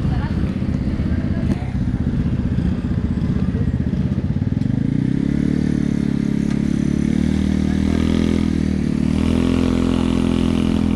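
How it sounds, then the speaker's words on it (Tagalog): A motorcycle engine revs nearby at a residence during a reunion gathering, a steady loud drone that rises and thickens about halfway through and holds, with chatter and clatter around it. "May nagraheng motor dyan."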